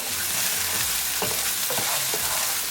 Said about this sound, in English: And now I'm going to bring the onion. Mix it well.